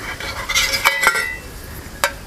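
Metal camping cookware, including a Solo Stove 900ml pot and a small frying pan, clinks and rattles as it is handled, a few bright clanks close by, then a final ringing tap.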